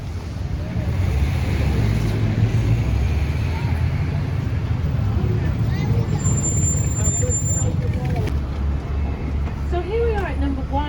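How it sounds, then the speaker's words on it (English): A city bus pulls up at a stop in York, its engine rumble and road noise steady and fairly loud throughout, with a brief hiss and squeal near the end, while people talk nearby. "That's the bus."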